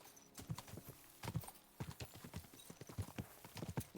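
Horse hooves clip-clopping on the ground in the video game Kingdom Come: Deliverance 2, a steady, rhythmic string of soft, close hoofbeats, with no talk.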